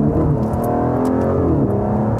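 A powerful, high-torque sports car engine revs and pulls hard under acceleration, loud and close throughout with steady harmonic rise and fall, from inside the car with paddle shifting.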